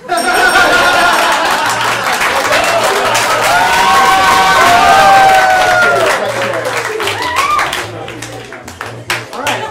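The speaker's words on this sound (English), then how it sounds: "Judging by that applause, I would say they were right in the middle" Loud applause and cheering from a live audience at a student showcase, dense clapping that holds steady and then thins out and scatters toward the end.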